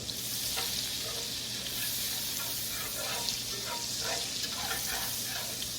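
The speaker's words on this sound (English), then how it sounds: "We're going to melt our butter." Butter melting and sizzling in a pan with meatball drippings and browned bits, a constant close frying hiss with soft rhythmic stirring scrapes throughout.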